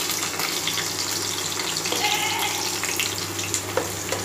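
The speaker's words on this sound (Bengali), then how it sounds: "আমি প্রথমেই আলুগুলোতে নুন আর হলুদ মাখিয়ে ভেজে তুলে নিলাম" Potatoes coated with salt and turmeric fry in oil with a steady, close sizzle. Occasional sharper pops and spatters break through near the end, with no voices.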